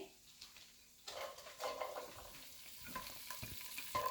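Chopped small onion sautéing in a pan for a spiced veggie pasta, with a steady soft sizzle and occasional stirring scrapes and clinks, close and fairly quiet, no talking.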